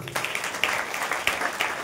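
An audience at a devotional kirtan programme claps steadily in a dense, moderately loud patter of many hands that carries on for a couple of seconds.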